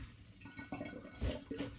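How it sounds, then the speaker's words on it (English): Nasturtium leaves are pressed through a sieve with a potato masher, giving close, wet squelching and squishing pulses at an irregular rhythm. "I'm just going to press these leaves with a potato masher"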